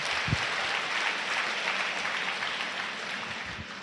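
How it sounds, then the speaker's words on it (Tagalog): A congregation applauds during a Tagalog sermon, a dense, steady wash of clapping that fills the whole clip and fades slightly toward the end, with no talking over it. "Lakasan niyo yung palakpak niyo kung nakakaunawa kayo."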